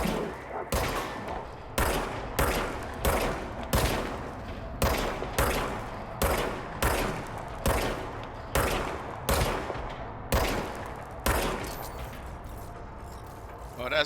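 Gunfire from a server weapon in a shooter video game: a long run of loud, evenly spaced heavy shots, about a dozen bursts in a steady rhythm, with a voice talking over parts of it.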